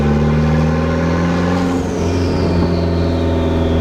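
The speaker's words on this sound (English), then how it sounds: "The blow-off valve." A turbocharged Honda Civic revs hard, its engine droning loud and close, then the blow-off valve releases a rising whoosh that sweeps off as the revs drop, with no talk.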